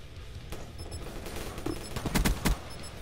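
Gunfire in the video game Call of Duty: Black Ops 3, a scattered series of sharp shots with a few louder bursts toward the end, fairly faint against game background noise.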